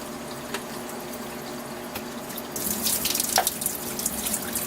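Liquid pours out of a film developing tank into a sink, a steady close splashing stream that swells louder midway, with no one talking.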